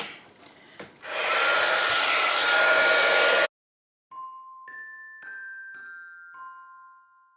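A heat tool setting embossing powder on a holiday gingerbread house paper craft, a loud steady blowing whir for a few seconds that cuts off abruptly, followed by faint tones and light handling noises.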